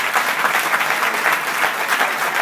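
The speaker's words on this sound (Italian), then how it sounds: "un applauso per tutti i portavoci" Audience at a political assembly in Italy applauds steadily, a dense, even wash of many hands clapping alone, with no speech over it.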